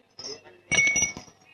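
Ice drops into a glass of water with two quick bright clinks, a light tap followed by a louder rattling chink, close and clear, with a voice faintly present.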